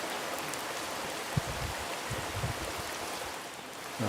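Heavy rain falls in northern Laos during flash flooding, a constant broadband hiss, with a few scattered louder drops or splashes standing out nearby.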